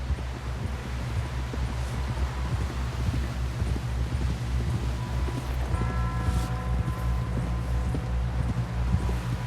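Horse hooves in Red Dead Redemption 2, a steady mix of rumbling clip-clop under wind and rustling, continuous and fairly loud throughout, with a tonal game score entering near the end.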